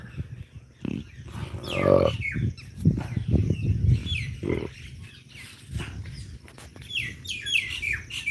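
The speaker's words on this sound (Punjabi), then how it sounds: "ਕੋਇਲ ਸੁਣਾਉਣ ਲੱਗ ਨੇ ਗੀਤ" An Asian koel's rising, repeated call rings out several times over low rumbling background noise, moderately near, with scattered chirps between.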